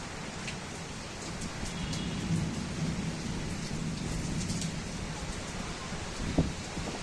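A Kalbaishakhi thunderstorm over Barasat brings steady heavy rain with a continuous low rumble of thunder running beneath it. One sharper crack stands out near the end, and no one speaks.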